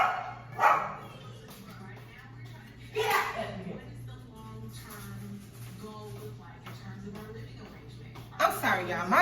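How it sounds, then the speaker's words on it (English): A dog barks at its own reflection indoors in a home kitchen, giving a few sharp, close barks spread through the stretch, with a voice and other speech around them. "he'll look at himself and like his reflection and he'll just be barking"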